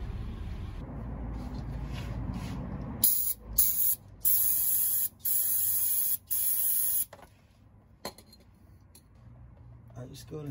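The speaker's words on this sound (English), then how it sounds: "let's go ahead and spray our freeze off first" Hissing aerosol spray of freeze-off penetrating spray onto a bolt on a Chevrolet Tahoe comes in several sharp bursts of a few seconds each, close by, after a stretch of low background noise.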